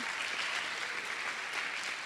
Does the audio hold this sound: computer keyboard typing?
no